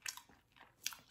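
Close, quiet chewing on a juicy piece of pork belly adobo: a few soft, wet bites and crunchy mouth sounds in quick succession, very faint and brief.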